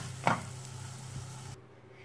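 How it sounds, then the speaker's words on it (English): Tomatoes and garlic fry in a pan, giving a soft steady sizzle with a brief stir or scrape near the start before the sound cuts off. "the tomatoes have finished frying up slightly"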